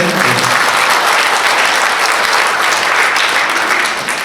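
Steady, sustained applause from an audience at a book presentation, loud and dense throughout with no talking over it.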